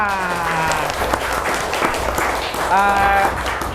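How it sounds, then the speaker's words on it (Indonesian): Children and teachers at a Quran learning school gathering clap for a winning group, a dense burst of applause with voices calling out over it, swelling again near the end. "Beri tepuk tangan untuk kelompok A"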